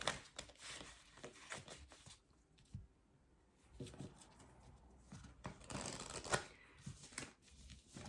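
Oracle cards being shuffled and handled during a card reading: a soft, steady riffle and slide of card stock close up, with brief flicks and pauses and no voice.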